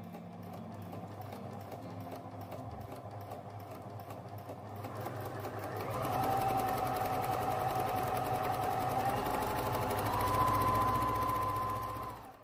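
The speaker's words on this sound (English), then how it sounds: "what is the noise level of the sewing machine? So listen carefully now." A Gritzner Tipmatic 6152 DFT domestic sewing machine runs steadily, a quiet even mechanical whir with a rapid needle rhythm that grows slightly louder midway, with no talk.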